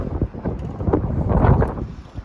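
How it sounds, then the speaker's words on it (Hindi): Strong wind buffets the microphone outdoors near the Space Needle, a loud, gusty low roar that swells and fades without pause. "देखो कितनी तेज हवा है"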